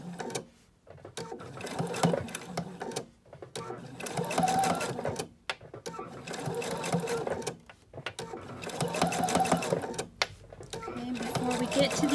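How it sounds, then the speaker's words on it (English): A sewing machine stitches a fabric fortune cookie in bursts of rapid, close mechanical whirring, stopping briefly between runs as the piece is pivoted around a circle, while someone talks over it. "So you stop, needle down, foot up, and keep pivoting all the way around."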